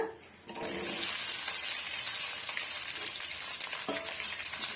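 Okra for a tamarind curry drops into hot oil and breaks into a sudden loud sizzle, then holds a dense, steady crackling hiss close by with a few stirring scrapes and no talking.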